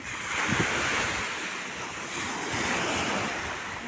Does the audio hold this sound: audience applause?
no